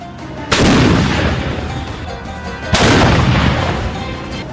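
Two heavy blasts from a mobile artillery gun about two seconds apart, each a loud booming crack followed by a long rumbling decay.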